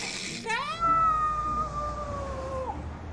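A voice imitates a radiator coming on, with a rising squeal that settles into a long, sustained, whining tone over a steady room hum, from the film Elf.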